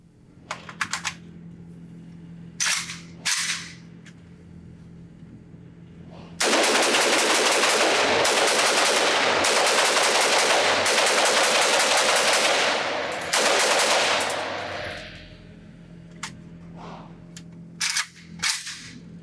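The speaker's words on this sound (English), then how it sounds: "let's go back to the range, see how fast I can shoot it from the shoulder" A Century Arms AES-10B2 semi-auto Romanian RPK fires 7.62x39 rounds on a range, with a few separate loud shots, then a long fast string of rapid semi-automatic fire lasting several seconds, followed by a few more single shots.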